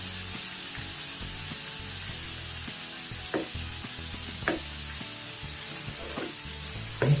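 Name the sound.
garlic frying in oil for chilli oil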